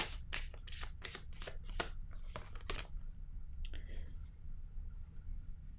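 Tarot cards are shuffled and laid out for a reading. Quick, close, crisp riffling and slapping comes in a burst of about a dozen strokes, then softer handling with a faint voice underneath.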